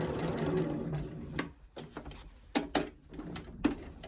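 A sewing machine runs a short burst and then stops for a series of quick stitching stutters, sewing a locking stitch with close, mechanical whirring and clicking.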